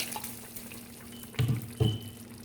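Water poured into a Nigerian chicken tomato stew gives two short, soft splashes close by in an otherwise quiet kitchen.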